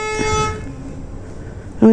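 A single short car horn toot sounds near the end, after a brief tonal hum and quiet background.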